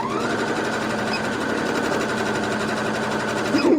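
A sewing machine stitches a seam back together in one steady, loud, continuous buzzing run with fast rhythmic needle strokes, and no talking.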